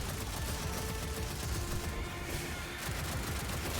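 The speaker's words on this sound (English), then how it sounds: "Can use the machine gun as well." A machine gun fires in Destiny 2, a dense, continuous rattle of automatic gunfire mixed with game effects at a fairly low level.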